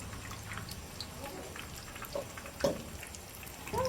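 Fish fry sizzling in hot oil, a steady soft crackle and bubbling with occasional pops, fairly faint and close.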